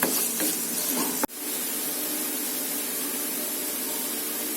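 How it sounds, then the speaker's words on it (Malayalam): Onions deep frying in hot oil until brown and crispy for biryani rice, a steady close hissing sizzle, broken once by a sharp knock before the hiss resumes. "നല്ല ബ്രൗൺ ആൻഡ് ക്രിസ്പി ആകുന്നത് വരെ നമ്മളിതിനെ വറുത്ത് കോരിയെടുക്കണം"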